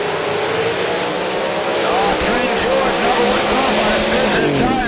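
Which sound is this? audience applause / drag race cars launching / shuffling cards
drag race cars launching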